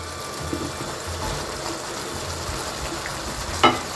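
Prawns frying in a pan for mee goreng, a steady low sizzle with faint stirring scrapes and a brief louder clink near the end, no talking.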